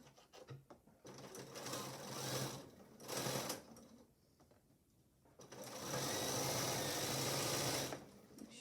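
A sewing machine runs in loud bursts while stitching a fabric face mask, with short back-tack passes and pauses between runs, ending in one long steady stretch of stitching up close.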